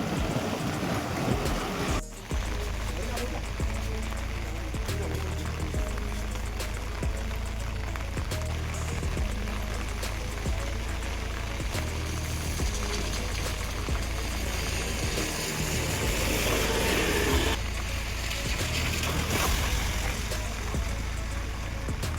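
Heavy rain pours during a drive through water-filled potholes, with a dense, steady hiss and rushing splash throughout and a low rumble underneath.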